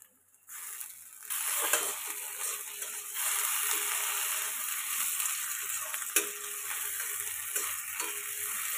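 Sliced onions frying in a pan for a Bengali home lunch, giving a steady, soft hiss of fine sizzling that swells after a brief quiet start, with a faint tick near the middle.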